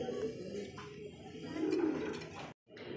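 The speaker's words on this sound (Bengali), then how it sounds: "রেড চেকার কবুতর দেখেন" A red checker racing pigeon with a mate already laying eggs gives low, steady cooing up close, a continuous murmuring call that swells midway and cuts out briefly near the end, with faint talking.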